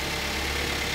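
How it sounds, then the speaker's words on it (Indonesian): A Daihatsu Gran Max engine idles in a continuous, even mechanical rumble with a broad hum, close and steady throughout the short stretch. "Nah, tuh suaranya engine"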